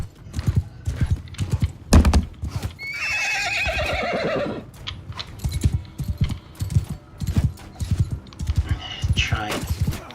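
Horse hooves clip-clop repeatedly in Mount and Blade II: Bannerlord during a castle siege, the steady beats close and loud, joined by a horse's whinny and clattering game noise.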